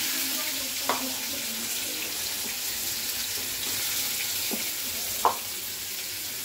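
Onions and tomatoes fry in a pan with cumin and garam masala for chicken kosha. A steady, moderate sizzling hiss runs throughout, with a couple of sharp utensil clicks.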